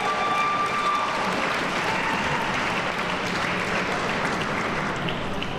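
Audience applause at a celebration of Mayor Harold Washington's 100th birthday, a dense, even wash of many hands clapping at once, sustained and fairly loud throughout.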